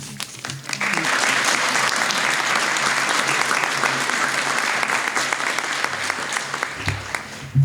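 Audience at a healthcare education hub press conference breaking into sustained, dense applause that swells quickly and tapers off near the end, with some voices in the crowd.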